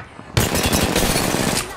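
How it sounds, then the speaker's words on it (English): Rapid automatic gunfire in the video game Apex Legends bursts in suddenly after a quiet start, a dense, loud stream of close shots that keeps going to the end of the short clip. "Enough, I'm getting shot at."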